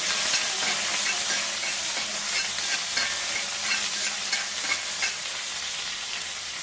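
Chopped onions frying in hot oil while being stirred, a steady dense sizzle with scraping stir sounds throughout, close and continuous with no talking.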